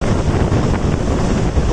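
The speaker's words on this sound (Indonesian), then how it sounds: "melalui transportasi air yaitu speedboat" A speedboat travels along a river through tropical forest, its engine roar mixed with steady wind buffeting and rushing water, loud and close throughout with no talk.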